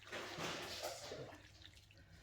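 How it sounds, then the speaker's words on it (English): Water pours into a minced beef casserole in a home kitchen, a steady, close, splashy rush that tapers slightly toward the end, with no talking. "And then you just fill it with water."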